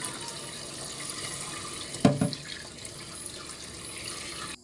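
Prawns and vegetables for coconut-milk pakbet washed under a running tap, a steady rush of water with a brief louder splash and clatter in the middle, close by, no voices.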